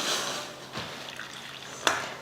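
Boiled water poured in a thin stream into rice flour, a soft trickle with a brief louder splash near the end, close by and fairly quiet.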